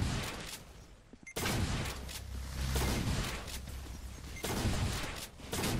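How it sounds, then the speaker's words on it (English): A super shotgun fires repeatedly in a Roblox shooter game, with sharp, loud blasts breaking through a busy game soundscape at irregular intervals. "Oh, you took the super shotgun."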